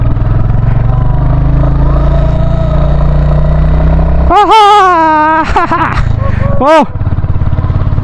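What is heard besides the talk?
Royal Enfield Hunter 350 motorcycle climbing hill in low gear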